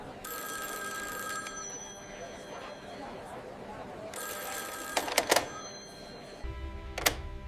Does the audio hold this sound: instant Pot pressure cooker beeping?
no